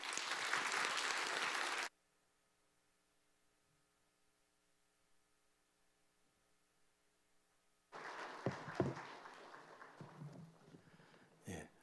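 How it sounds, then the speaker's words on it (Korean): Church congregation at a Sunday afternoon service bursting into applause, a short loud round that stops abruptly, then a hush of mains hum before a second, more scattered round of clapping. "우리 한 번 더 박수로 한번 격려하겠습니다."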